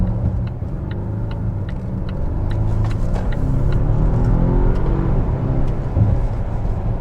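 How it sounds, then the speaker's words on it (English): A 2025 Volvo XC90's four-cylinder engine accelerating hard in sport mode, a steady loud rumbling roar heard from inside the cabin, with faint clicks over the engine and no talk. "I like the sound of the 4-cylinder too"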